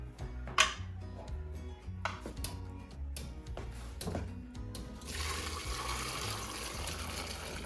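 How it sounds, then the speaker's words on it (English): Hot chicken soup pours through a strainer, with clinks and taps of handling before a continuous rushing stream of liquid for the last few seconds. "So I'm gonna carefully pour it over the strainer."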